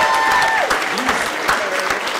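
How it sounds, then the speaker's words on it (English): Audience applause at Gotham Comedy Club: a crowd claps loudly and continuously, with cheers and voices mixed into the clapping and bits of talk rising over it. "Give a round of applause for your freedom."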